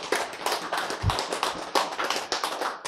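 Lecture audience clapping together on cue, a dense run of sharp hand claps continuing steadily and close, filling the room with no break.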